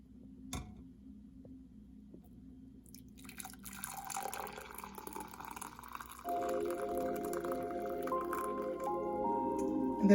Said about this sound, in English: So next I'm going to pour the tea.